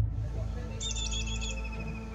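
A great grey shrike, a large shrike resident in the Jordan Valley, gives a rapid series of sharp, high chirping notes over about a second, fairly close and clear above a low steady outdoor hum.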